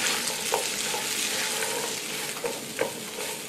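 Sliced onions with chili flakes fry in a pan for vegetarian penne pasta, a dense close sizzle with a few brief stirring clicks and no talking.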